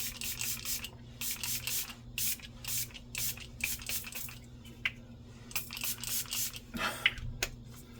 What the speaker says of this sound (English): Now I'm gonna set all of that with a setting spray